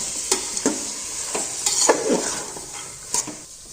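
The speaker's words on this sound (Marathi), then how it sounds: "मध्यम गॅसवरती छान असं तेलामध्ये परतून घ्यायच्या भाज्या" Mixed vegetables and peas stirred in hot oil in a pan over medium flame, a steady soft sizzle under repeated scraping strokes of a spatula, close by.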